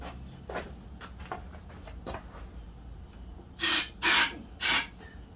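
Three short, loud bursts of aerosol spray directed into a lawn mower engine, each a sharp hiss lasting about half a second, following quieter faint clicks and handling noises.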